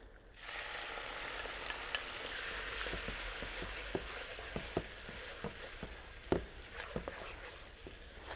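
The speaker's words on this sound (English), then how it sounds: "I'm going to add my chopped tomatoes." Chopped tomatoes hit onions frying in a pan for aloo saag, giving a steady broadband sizzle with scattered sharp crackles and pops throughout, close and fairly loud, no voices.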